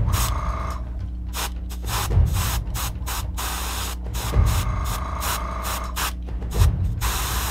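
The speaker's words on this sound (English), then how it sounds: "I'll be spraying it in a zenithal fashion, going for that top-down light source" Monument primer is sprayed onto a miniature in short hissing bursts separated by brief pauses, close and fairly loud over a steady low hum, with a few clicks from the nozzle.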